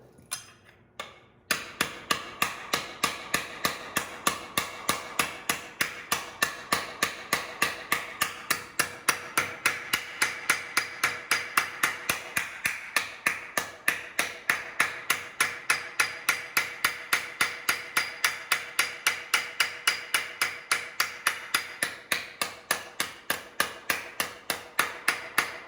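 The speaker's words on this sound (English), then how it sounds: "You could walk that fold over to that line if you just keep hammering on it." A hammer strikes a sheet-metal panel over and over, folding a flange against the edge of an old iron. Sharp, close, evenly spaced blows continue at a brisk, steady rhythm for the whole stretch.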